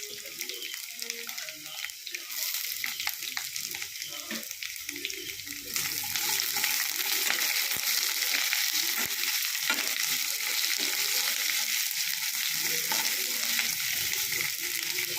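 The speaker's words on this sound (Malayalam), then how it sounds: "കുറച്ച് ഉള്ളി ചെറുതായിട്ടരിഞ്ഞ് അത് ഇട്ട് കൊടുക്കാം" Finely chopped shallots fry in a pan with a steady bright sizzle that grows louder and fuller partway through, accompanied by occasional stirring scrapes, close and continuous.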